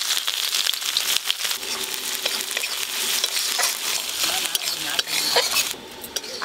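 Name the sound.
chopped ginger and garlic frying and being stirred in a pan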